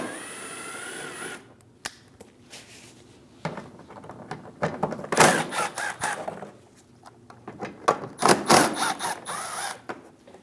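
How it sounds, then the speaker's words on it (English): Ratchet and 7mm socket loosening bolts on the inner fender liner of a 2016-2025 Chevrolet Malibu 1.5L, giving bursts of clicking and scraping with quiet gaps between them. "Using a 7mm socket, we're going to remove the 3 bolts inside our inner fender liner."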